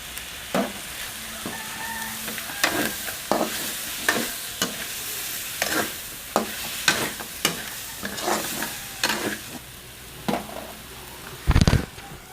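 Ginger, turmeric and tomato sautéing in a pan for pork binagoongan, soft sizzling beneath sharp, irregular scrapes and knocks of a utensil stirring against the pan, ending in a louder burst of clatter.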